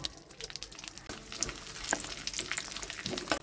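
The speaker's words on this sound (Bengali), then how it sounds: "জিরে, গরম মশলা, শুকনো লঙ্কা, তেজপাতা ফোড়ন দিয়ে দিচ্ছি।" Cumin, garam masala, dry chilli and bay leaf frying in hot ghee as a tempering, a dense crackling sizzle with rapid spattering pops and a few stirring knocks, fairly quiet and continuous.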